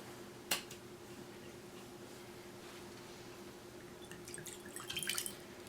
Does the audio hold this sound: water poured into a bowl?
yes